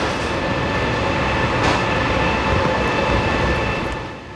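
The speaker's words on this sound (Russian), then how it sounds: "На первый путь прибывает поезд «Москва-Адлер»." Moscow–Adler passenger train rolling into the platform at Sochi station, a steady loud rumble of wheels and carriages that swells midway and fades slightly at the end, with no talk.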